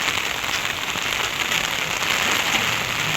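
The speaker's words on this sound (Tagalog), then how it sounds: "Talagang umuulan ng bonggang-bongga." Heavy rain pours steadily around someone walking under an umbrella, a dense, loud, unbroken wash of drops with no pauses and no voices.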